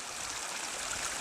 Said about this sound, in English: But a waterfall was kind of neat.